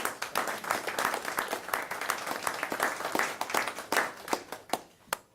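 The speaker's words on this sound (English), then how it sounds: "Let's give them another round of applause." Scattered applause in a county commissioners' court, a modest group clapping with distinct individual claps audible, fairly close, thinning into a few final isolated claps.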